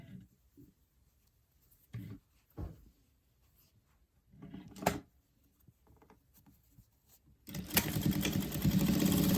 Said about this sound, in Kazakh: Енді дәл осы элементімізді бетіне қаратамыз және де тігісіміз жүргіземіз